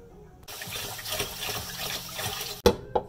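Basmati rice is rinsed under running water, a steady splashing gush that starts abruptly. It ends in a couple of sharp knocks, like a pot being set down.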